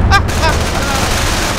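A Hummel self-propelled artillery gun fires in a video game, one loud sustained blast with a rumbling tail filling the short moment.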